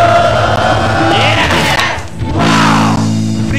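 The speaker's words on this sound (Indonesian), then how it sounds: "Kasih tepuk tangan, kasih suara." Studio audience at an Indonesian TVRI motivational talk show loudly cheering, yelling and whooping, a dense close roar that dips briefly near the middle and then surges back.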